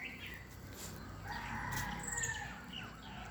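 A rooster crows once in the distance, a faint drawn-out call in the middle of a quiet morning countryside background with other birds.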